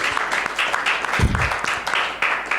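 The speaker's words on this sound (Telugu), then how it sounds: "కొట్ట గట్టిగా చప్పట్లు ఒకసారి" A church congregation at a Sunday service claps loudly and continuously, a dense wash of many hands with a brief low thump partway through.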